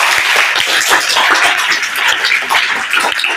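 Audience clapping loudly for a teacher, Sajid sir, a dense continuous patter of many hands at close range.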